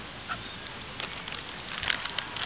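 Ducks on a park pond at Parque Ibirapuera give a few short, nasal quacks at moderate distance over steady outdoor background noise, the calls clustered near the end.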